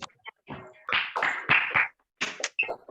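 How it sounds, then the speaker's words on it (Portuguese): Scattered hand claps from an online audience over a video call, several short bursts with gaps between, close-miked and uneven. "vamos bater palmas assim, com som para a gente ouvir"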